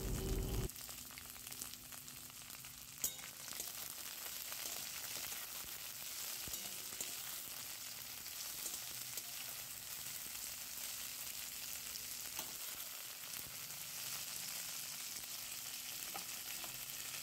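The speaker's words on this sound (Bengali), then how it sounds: "গাজরটাও হালকা ভাজা হয়ে গেছে, এবার কেটে রাখা বরবটির টুকরোগুলো এর মধ্যে দিয়ে দেওয়া হলো।" Carrot and cut yardlong bean pieces fry in oil in a pan for a Bengali chickpea lentil and vegetable dish, giving a steady close sizzle with occasional stirring scrapes and no talk.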